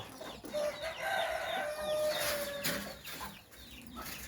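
Spotted doves call while being fed, their soft repeated coos and chirps rising clearly over a gentle background rustle.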